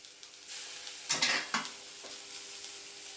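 Potato and pea samosa filling being stirred in a pan, with a few scraping strokes over a soft background sizzle; close and fairly quiet, no talking.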